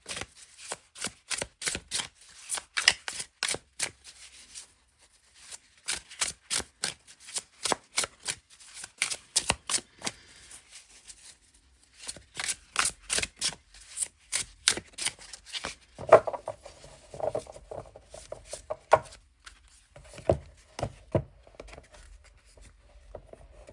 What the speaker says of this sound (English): So let's just give it a shuffle.